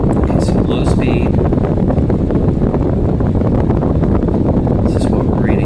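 A 20 inch floor fan runs on low speed, its steady broadband wind rush blowing straight into the microphone, loud and constant throughout with no talk.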